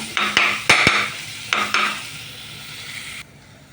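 A utensil scrapes and clatters in a pan of egg and tomato mixture cooking on the stove, a few sharp stirring knocks over a soft, faint sizzle that fades at the end.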